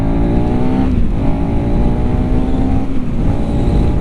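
A KTM 390 SMC R motorcycle engine pulls steadily in third gear, a loud, continuous drone with a held note that dips briefly around the midpoint and near the end, no voices over it.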